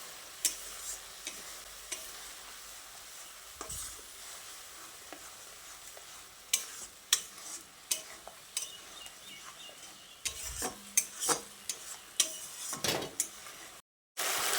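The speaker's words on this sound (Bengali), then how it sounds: "টমেটো পেস্টটা দিয়ে মশলার সঙ্গে খুব ভালো করে কষিয়ে নিতে হবে।" Tomato paste fries with spices in a pan, giving a low sizzle broken by repeated scraping and stirring strokes that come in uneven bursts; one brief gap near the end, and no talking.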